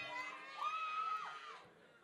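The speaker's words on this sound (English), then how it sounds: "This capacity crowd is on its feet." A capacity crowd at an MMA fight cheers and shouts from a distance, a rising roar of voices that swells and then fades, with a voice talking over it.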